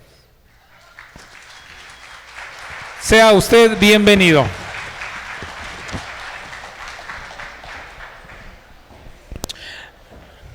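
Audience applause rises to welcome a guest speaker, Dr. David Israel Martínez Rodríguez, at a university conference on climate migrants, with a host's voice speaking over the steady clapping.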